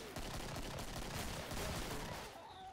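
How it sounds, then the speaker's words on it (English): Pistol gunshots in the video game Killing Floor crack out loud and fast, one shot on another in a dense, continuous burst of gunfire with no voices over it. "You can shoot them in the head with a freaking pistol."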